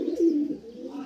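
Racing pigeons in a loft give a short, soft cooing call, close by and alone.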